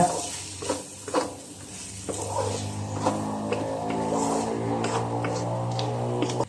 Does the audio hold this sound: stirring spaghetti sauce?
yes